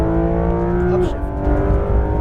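Porsche GT3 RS 991.2 on a race track, engine loud and close as it revs, then drops pitch on an upshift and pulls again, with a voice speaking over it.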